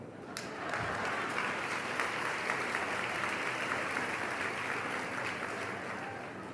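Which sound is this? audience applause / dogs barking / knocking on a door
audience applause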